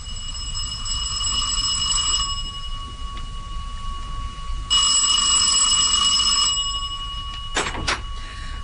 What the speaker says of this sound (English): I was in the study when the front doorbell rang